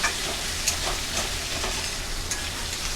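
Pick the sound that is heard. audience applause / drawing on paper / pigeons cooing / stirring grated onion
stirring grated onion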